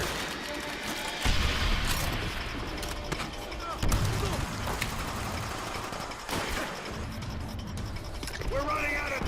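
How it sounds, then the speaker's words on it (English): An artillery strike in the multiplayer video game Call of Duty: World at War, with heavy booming impacts and crackling gunfire layered through a busy battle mix, alongside voice lines. "Our artillery will shake him up!"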